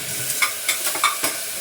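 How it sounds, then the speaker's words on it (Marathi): Onion and tomato sauté in a hot pan with a steady sizzle, broken by several quick scraping stirs of a spoon, close and alone without speech. "हे बघा आता चांगलं परतून घेते."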